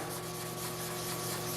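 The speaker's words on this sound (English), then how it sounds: "Need a bit more sanding." Steady, continuous sanding of scratches on black car paint, a close abrasive rubbing hiss with a faint hum beneath it, no pauses.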